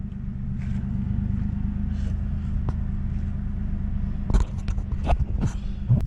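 Car interior on the move: a steady low engine and road rumble throughout, with a few sharp clicks and knocks near the end.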